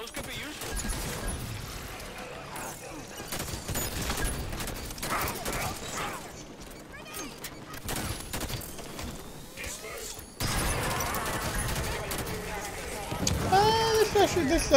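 Rifle gunfire in the video game Halo 5, dense bursts of shots and clattering mixed throughout, with a player's voice talking over the action.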